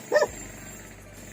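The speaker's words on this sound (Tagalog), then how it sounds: "sumasabay yung aso." A dog at a plant garden stall gives one short, loud bark near the start, then only a low steady background hum remains.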